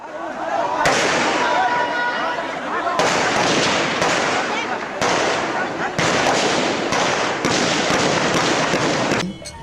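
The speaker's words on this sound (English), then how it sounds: "The security forces started firing." Bursts of gunfire from security forces in an old documentary, dense crackling volleys that stop and restart in several distinct rapid bursts, loud and harsh throughout.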